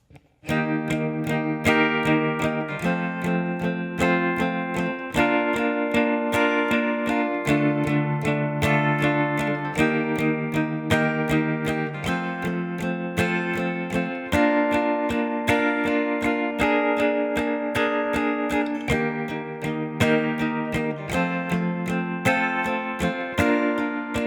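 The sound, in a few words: acoustic guitar strumming song chorus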